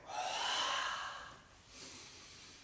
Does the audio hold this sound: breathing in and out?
yes